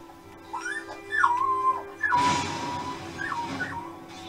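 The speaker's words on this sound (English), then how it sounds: "It's a wolf cub." A wolf cub in Skyrim makes high, wavering whimpers and yips in short repeated bursts. The sound is fairly faint and stands alone over quiet game ambience, with a brief noisy rush partway through.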